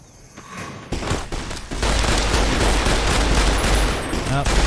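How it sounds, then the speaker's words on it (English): Sustained gunfight gunfire in Fallout: New Vegas, dense and loud, building after a quieter opening and continuing steadily to the end. "Looks like it's just gonna be a normal old gunfight."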